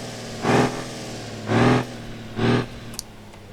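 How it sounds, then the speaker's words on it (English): A T-Series truck engine idles in BeamNG.Drive, blipped three times in quick succession with roughly one-second gaps, each rev a short swell over the steady low idle, followed by a faint click. "Here's just the new engine sound"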